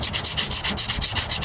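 Bondo body filler spread tight and thin over the rust repair on a 1998 Ford Ranger tailgate, a close, steady scraping rub repeating in a quick even rhythm of about eight strokes per second, with no talk.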